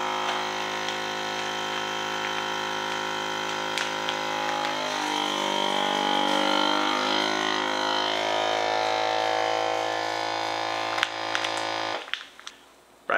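A vacuum sealer's steady motor hum runs for about eleven seconds while sealing meat on the moist setting, shifting slightly in pitch midway, then cuts off abruptly, leaving near silence.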